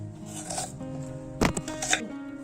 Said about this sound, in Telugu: కొంచెం ఇట్లా ఉంచి దాన్ని ఆనియన్స్ కట్ చేసుకోవాలి.